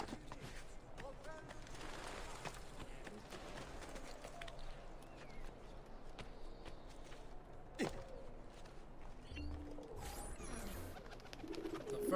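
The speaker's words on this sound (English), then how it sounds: "The first pigeon of the day." Pigeons coo softly in an Assassin's Creed II city street, faint against a busy ambience of footsteps, hooves and murmuring crowd.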